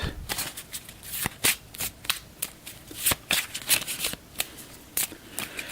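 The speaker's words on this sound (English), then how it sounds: "So on a spell, I'll give the spells a quick shuffle" A deck of spell cards for the Gloom of Kilforth board game gets a quick shuffle up close, a rapid run of crisp, uneven riffling bursts and card slaps.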